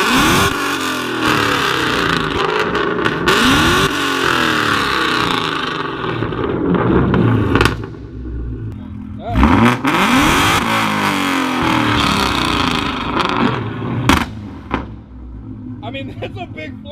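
An S550 Mustang with a tuned exhaust revs hard on a dyno, engine roaring up and dropping back in repeated pulls with sharp pops, loud and close, while people talk over it.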